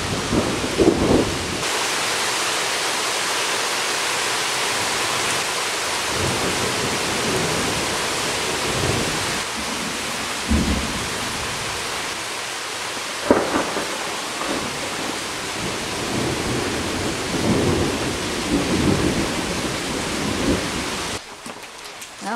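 Rain pours steadily outdoors at the onset of a summer storm, broken by several low thunder rumbles and booms spread across the stretch, fairly close and loud, with no talking.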